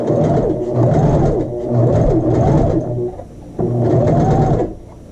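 A sewing machine runs a basting stitch along a child's shirt sleeve, whirring loudly and close in two steady runs separated by a brief pause.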